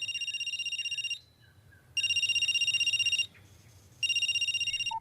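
A phone rings with an incoming call in three long electronic bursts separated by short pauses, loud and close, in an early-morning bedroom setting with no talking.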